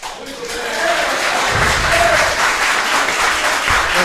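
An audience applauding at a council meeting, a steady wash of clapping from a crowded room with a few thumps, while people talk over it.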